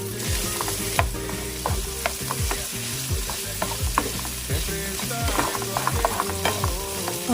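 Garlic butter chicken with Italian seasoning is stirred in a pan. A spoon scrapes and knocks repeatedly against the pan over a steady, close sizzle, with no talking.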